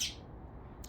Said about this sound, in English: It's just a bird, Lucy.